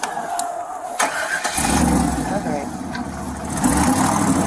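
A pickup truck engine cranks and catches after a second or so, then runs at a steady low rumble and pulls away, with voices talking over it near the start.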